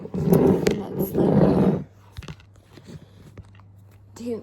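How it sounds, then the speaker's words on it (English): A person's loud, drawn-out yawn lasting nearly two seconds, followed by quieter breathing and faint room sounds. "10th yawn I've done."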